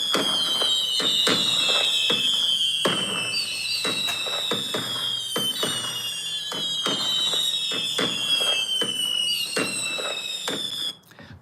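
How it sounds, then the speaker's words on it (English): A fireworks sound effect on a livestream: rising whistles repeat over a rapid crackle of pops and bangs, loud and continuous, then cutting off near the end. "For that, you get some fireworks."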